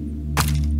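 A bomb from a Besiege airship hits a sword: one sharp crack-like impact with a brief thudding tail over a steady low mechanical hum.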